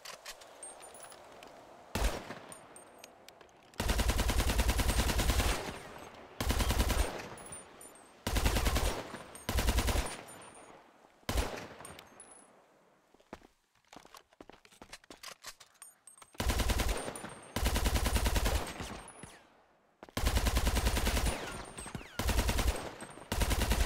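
Loud bursts of rapid automatic video game gunfire, close up, repeating in short volleys separated by brief pauses.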